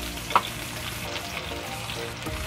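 Chicken liver and gizzards, boiled beforehand, sauté in a hot pan for adobo, giving a steady, close sizzle with one brief sharp clink near the start and no talk.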